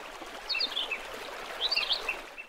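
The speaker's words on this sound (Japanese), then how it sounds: "川のせせらぎと一緒に、" Mountain stream babbling steadily through the whole stretch, clear water running over stones, with small birds chirping and twittering above it in two short bursts; no voices.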